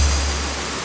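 An Oregon waterfall rushes close by, a dense, steady roar of falling water with deep rumble, heard alone.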